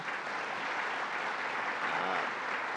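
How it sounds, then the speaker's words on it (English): Audience applause at a Central New York state budget announcement, a dense, steady wash of many hands clapping evenly for the whole moment without a break. "So let's give a round of applause to Rob Simpson."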